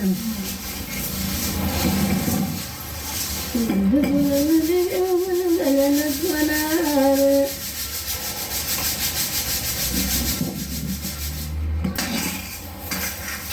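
A traditional stone hand mill grinds grain, giving a steady rough rubbing and scraping that runs through the whole stretch, with a sung melodic voice rising over it in the middle.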